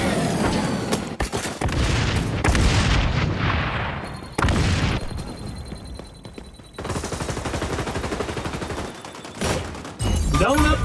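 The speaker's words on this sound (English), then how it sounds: "Deploying frag." Frag grenade blasts and rapid gunfire in the shooter game XDefiant, loud dense bursts of automatic fire and booms filling the clip, broken by brief gaps, with game voice lines mixed in.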